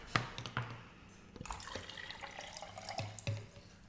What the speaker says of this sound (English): Let me just pour some more water.